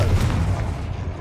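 A Confringo fire spell in Hogwarts Legacy bursts as a short, heavy booming blast whose low rumble fades out within about a second.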